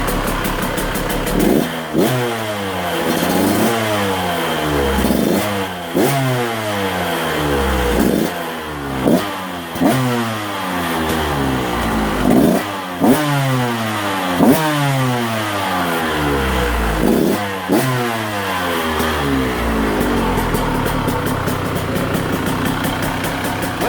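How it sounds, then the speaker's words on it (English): A bone-stock 2022 KTM 125SX dirt bike engine runs close and loud, with sharp throttle blips about every two seconds rising and falling over a steady idle, repeating throughout with no talking. "Yep, she idles."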